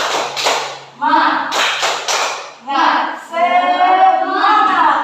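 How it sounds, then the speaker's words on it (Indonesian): Schoolchildren in a primary classroom doing a rhythmic group clap, several sharp clap bursts in a short pattern, close and loud, alternating with the class chanting together. "Tepuk semangat"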